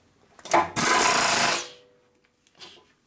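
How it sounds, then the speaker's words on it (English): A precision drill press whirs up in a loud, close burst lasting about a second, then winds down, followed by a short quieter burst. "I got a precision drill press with precision drilling"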